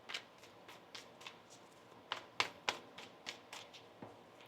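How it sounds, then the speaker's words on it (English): Tarot cards being shuffled by hand, a run of soft papery riffles and taps in an uneven rhythm, close and fairly quiet, with a few sharper snaps near the middle. "One more shuffle."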